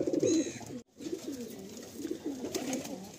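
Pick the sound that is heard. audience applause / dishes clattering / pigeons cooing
pigeons cooing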